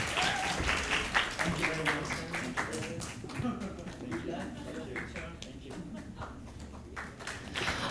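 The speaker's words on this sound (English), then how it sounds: "Let's get a round of applause." An audience at a live English-language talk concert in Busan breaks into applause. The clapping is strongest at first, then thins out and fades, with voices speaking over it.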